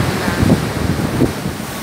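Surf rolls and breaks at Sliema beach in Malta, a loud, steady wash of water and wind with soft surges of crashing waves, with no voices.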